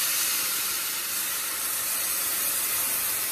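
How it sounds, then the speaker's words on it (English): Vegetables for veggie spaghetti sizzle in a pan with lemon added, a loud, even hiss held close and unbroken for several seconds, with no voices. "listen at that simmer. That sizzle."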